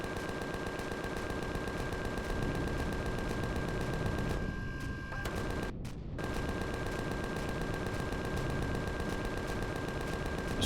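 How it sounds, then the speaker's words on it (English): Gatling guns in Empyrion Galactic Survival firing in a dense, continuous rapid rattle with a steady mechanical whine, briefly cutting out twice near the middle before the sustained bursts resume. "I can depress the Gatling guns."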